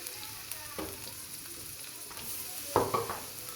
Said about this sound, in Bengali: এখন 1 কাপ পরিমাণ পেঁয়াজ অ্যাড করে দিলাম।